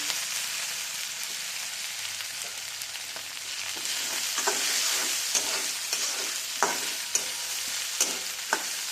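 Dal sizzles and fries in a pan for shepu (dill greens) bhaji, a constant hiss broken toward the end by a few sharp utensil taps and scrapes, close and with no voices.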